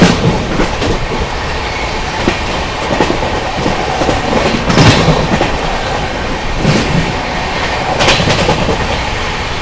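The 02563 Barauni New Delhi Clone Express rushes past at close range, a loud roar of rolling stock with rhythmic clickety-clack of wheels over rail joints and brief metallic squeals throughout.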